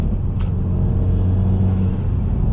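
A Subaru WRX engine pulls hard under a bridge, a loud, steady low rumble heard from inside the car with a rising droning tone and one brief higher hiss.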